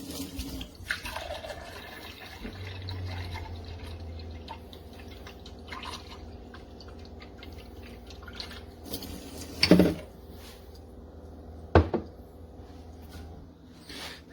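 A Frizzlife reverse osmosis water filter running under a kitchen sink with the cabinet doors closed: a faint steady hum with water trickling and flowing, broken by a couple of brief louder clunks.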